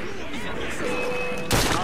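Gunfire volley in the video game Assassin's Creed Syndicate: a burst of several shots fired together, loud and close, erupting near the end after game music and voices.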